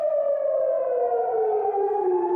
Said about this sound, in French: Dans les rues de Jérusalem, les sirènes qui annoncent la riposte iranienne.